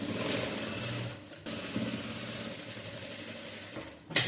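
A sewing machine running a double stitch on a saree blouse, a steady whirring mechanical hum that pauses briefly, then continues, no voices.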